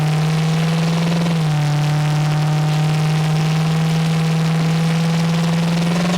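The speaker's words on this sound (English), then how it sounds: "The exhaust sounds really good on this car." A 1966 Ford Mustang's exhaust rumbles steadily near at idle, with one quick blip of the throttle early on before settling back into an even, deep drone.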